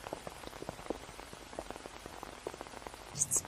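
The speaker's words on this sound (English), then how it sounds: "A little rain won't hurt." Rain patters steadily onto an umbrella outdoors, a dense, even field of small drop impacts with scattered sharper taps, fairly faint throughout and no talking.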